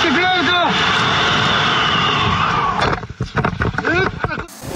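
An Il-76 transport aircraft in flight during a parachute drop of rescuers, its engines roaring loudly and steadily, then cutting out into gusty wind buffeting with a narrator talking over the sound.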